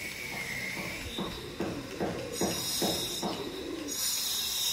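Home-bred Chennai line Madrasi pigeons coo in a series of low, throaty pulses, close and moderately loud, with a bright hiss and faint chirps in the background.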